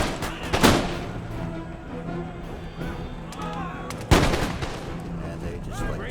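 Gunfire in a strategy video game set in early American history, two loud shots or bursts standing out over a continuous battle din of scattered distant firing and clatter.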